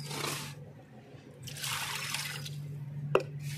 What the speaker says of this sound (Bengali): এবার আমি সব মাছটা ধুয়ে নেব